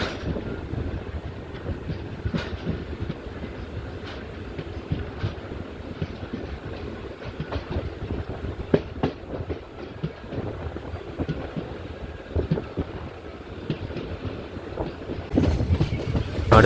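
A passenger train on the Kayamkulam to Ernakulam line via Alappuzha runs steadily, giving a continuous rumble with rhythmic clickety-clack and occasional knocks from the carriage, no voices heard.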